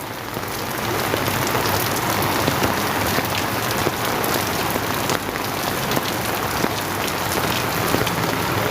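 Rain pattering steadily on a surface, a dense even hiss of drops that continues throughout with no talking.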